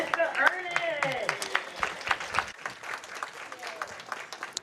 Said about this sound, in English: Round of applause for our third place finisher, Miss Jessica Ernest.